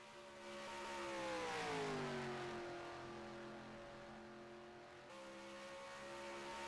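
Race cars in an AlphaTauri Cup Series event at Darlington roar past loudly, engine pitch sliding down as they speed by, then a steady engine drone continues with no talk.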